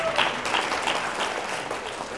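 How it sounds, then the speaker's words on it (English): An audience claps loudly and steadily for Jim at a business talk on strategic planning, dense applause filling the room without a break for a couple of seconds. "Give Jim a big round of applause."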